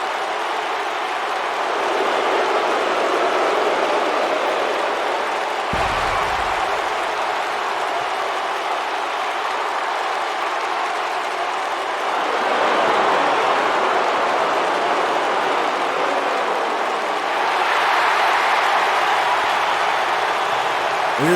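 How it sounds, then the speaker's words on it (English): Wrestling arena crowd in WWE 2K25 giving a mixed reaction to Paul Heyman, a steady broad roar of cheers and boos that swells in waves, with faint talk underneath. "The crowd mixed response for Paul Heyman for this offer"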